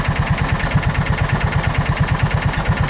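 A John Deere Gator 4x2 with idle and clutch trouble idles with its drive belt engaging, a close, rapid, even engine thrum with steady pulses and a faint higher whine above it.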